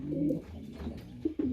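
Pigeons coo softly and repeatedly, a low throaty warble close by, with overlapping calls and faint rustling.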